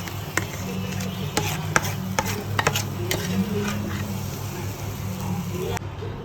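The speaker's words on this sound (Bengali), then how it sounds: "তো আমি একসাথে সবকিছু দিয়ে নাড়াচাড়া করবো" Raw mango mixture being stirred in a hot frying pan, with scattered scraping clicks of the spatula against the pan over a steady hum of background noise and speech.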